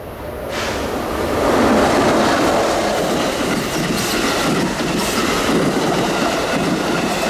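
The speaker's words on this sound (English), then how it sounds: "Train 6676, Dover to New York Penn." A New Jersey Transit commuter train on the Morristown Line, running Dover to New York Penn, rumbles past close by, a loud steady roar of wheels and cars with rhythmic clatter, no voices.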